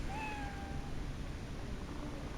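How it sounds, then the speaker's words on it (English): A cat meows in Cyberpunk 2077, a short rising cry heard up close over a steady background hum. "Oh, there's a cat."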